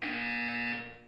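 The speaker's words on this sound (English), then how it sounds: "When you hear the buzzer, look up at the ceiling." A buzzer in the video game Portal 2 sounds one loud, harsh electronic tone that holds steady for about a second before cutting off.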